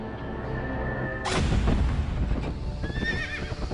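A horse gives a loud, clear whinny close by, followed by a sudden deep rumbling boom and hoofbeats, with a second higher neigh near the end.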